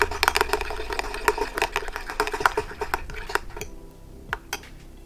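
Homemade glue-free slime being stirred with a pinch of salt in a bowl, quick wet clicking and tapping of the utensil against the bowl, loud and close, stopping near the end with a few last taps.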